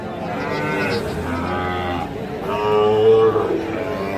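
Sahiwal bull calves lowing at a busy weekly cattle market, a loud drawn-out moo rising over steady crowd noise and background murmur.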